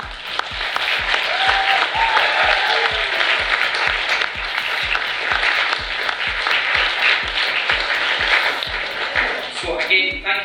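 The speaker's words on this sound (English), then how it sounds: "asking a round of applause together for Regan Jackson" An audience at a youth council and Scottish Youth Parliament election results event claps in sustained, even applause with dense, steady claps. A few louder, rhythmic individual claps stand out, and the applause thins slightly at the end.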